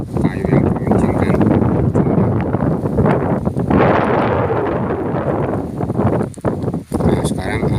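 Wind gusting across a rice-paddy field where leftover rice straw is being burned, heard as heavy, continuous buffeting roar on the microphone that swells and dips, with a person talking underneath.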